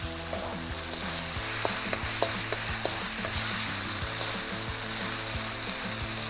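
Miso chicken stir-frying in a pan, with a steady loud sizzle, a low hum and repeated scraping taps as the pieces are tossed, close up and without voices.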